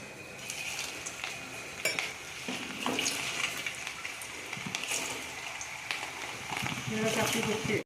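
Bread rolls fry in desi ghee with a close, steady sizzle and crackle, a few utensil clinks cutting through and a voice speaking over it at times.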